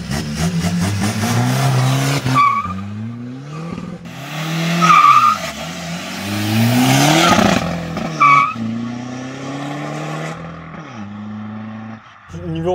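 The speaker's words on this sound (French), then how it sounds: "Au moins pour la vidéo, on va accélérer un petit peu." A Volkswagen Golf 4 TDI stage 2+ accelerates hard on an isolated road, the diesel engine revving up through several gear changes with tire noise, loud and close, with people talking over it.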